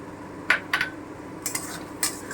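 A lid goes onto a cooking pan of chhanar dalna with potatoes, tomato paste and yogurt. A few sharp metallic clinks and clatters sound close by, spaced unevenly over two seconds against a quiet kitchen background.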